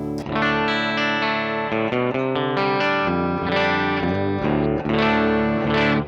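Distorted electric guitar, a Gretsch copy played through a NUX Fireman distortion pedal into a Koch Studiotone 20 amp's clean channel, playing sustained chords and melodic lines, thick and saturated with a chorus-like shimmer, loud and continuous with no voices.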